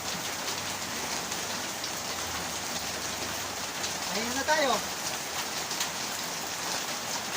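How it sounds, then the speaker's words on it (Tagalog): Heavy rain pours steadily onto a farm hut during a typhoon, a dense continuous hiss close by, with a short spoken phrase midway. "lumakas man ang ulan, ganito."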